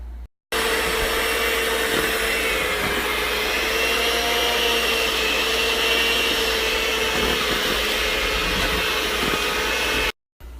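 Steady loud whirring motor runs almost unbroken for about ten seconds, starting and stopping abruptly, as cookie dough for hot chocolate cookie cups is mixed together in one bowl.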